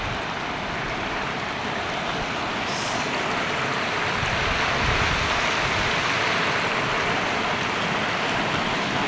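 Water flows steadily outdoors in a constant broadband rush, close and unbroken, with no voices.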